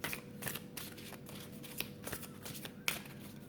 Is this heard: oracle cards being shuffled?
yes